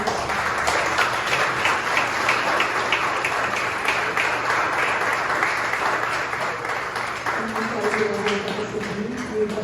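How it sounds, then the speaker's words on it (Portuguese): Steady, full applause from a congregation at a Portuguese-language church service, dense and continuous throughout, with a voice rising over the clapping in the final seconds. "Que possamos aplaudir ao Senhor."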